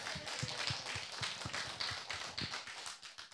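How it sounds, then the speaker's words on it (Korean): A church congregation at a worship conference claps in sharp, fairly sparse, uneven rhythm, separate hand claps standing out clearly at close to moderate distance with no voices. "다시 한번 뜨거운 영광 박수 전합니다"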